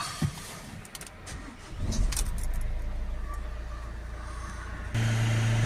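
Keys jangle briefly, then a Renault Trafic van's diesel engine, fitted with new glow plugs, cranks and catches, settling into a loud, steady low idle close by.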